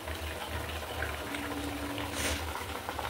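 Pots on a home stove cooking soybean curry, rice and a boiling egg, giving a continuous low bubbling, watery rush with a faint hum underneath, no talk.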